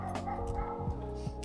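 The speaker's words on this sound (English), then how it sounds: "That's our neighbor's dog." A neighbour's dog gives several short, sharp barks and yips at a distance, quiet and repeated over a steady low background hum.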